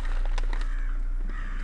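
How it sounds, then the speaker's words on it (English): Crows caw in the morning with several harsh calls against a steady background hum, fairly close and loud over constant ambient noise. "Hear the crows?"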